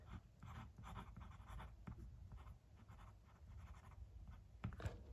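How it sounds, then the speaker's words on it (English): A Platinum Preppy fountain pen with a medium nib writes on Rhodia paper, making soft, close scratching strokes in a steady, irregular rhythm with small pauses between words. "let's do a writing sample now with this pen live"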